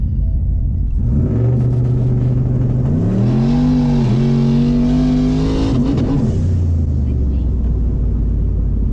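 A turbocharged 6.0 GMC Sierra pickup fitted with a new intercooler and radiator accelerates hard over an eighth-mile run, the loud engine roar climbing through rising gear pulls before easing off, with a voice briefly heard.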